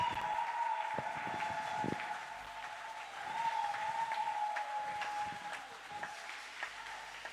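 A church congregation at a seminar applauds in a sustained, dense wave of clapping that carries on steadily from start to finish, with a high ringing tone running through it.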